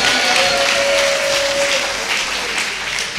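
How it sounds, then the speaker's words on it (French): A church congregation at a Sunday service applauds together, a loud, steady wash of many hands with a faint sustained tone underneath that fades out midway. "On applaudit le peuple de Dieu."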